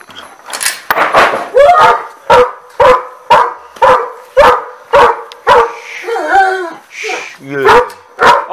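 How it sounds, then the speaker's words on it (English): A dog barks repeatedly in a steady rhythm, close and loud, with a few whiny yips and whimpers mixed in near the end. "you can't be barking like that"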